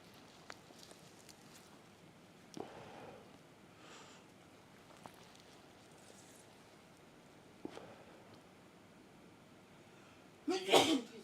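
A single sharp sneeze near the end, close and loud, after a quiet stretch broken by a few small sniffs and soft movement sounds.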